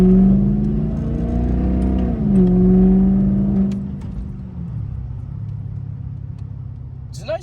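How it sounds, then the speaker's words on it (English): Interior cabin sound of an Audi A8 with a $1,400 aftermarket exhaust downshifting into second gear: a loud, steady engine drone that swells and falls, then settles into a lower rumble near the end. "I figured I'd just give you guys an update video of what the inside sounds like with the exhaust done."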